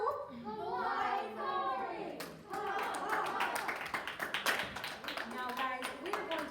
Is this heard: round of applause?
yes